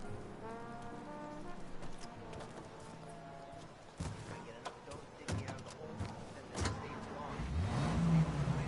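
A car engine drones and revs while driving in Mafia Definitive Edition, steady through the clip and building louder toward the end, with voices and tonal music over it early on.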